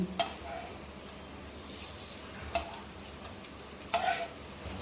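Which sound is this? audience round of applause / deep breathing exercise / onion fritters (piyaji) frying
onion fritters (piyaji) frying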